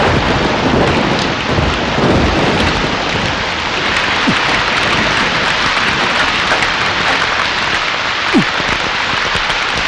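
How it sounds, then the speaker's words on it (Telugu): Steady, loud rain pours down in a dense wash, with low thunder rumbling faintly underneath. It runs without pause throughout and no one speaks. "వర్షం వచ్చేటట్టుంది"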